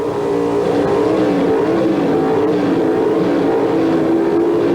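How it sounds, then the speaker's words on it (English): Loud, continuous engine roar from Pro Stock drag racing cars, Chevrolet against Mopar, revving at the starting line of the 1978 NHRA US Nationals, a dense droning howl with RPMs wavering and climbing throughout. "The RPMs climbing at the starting line"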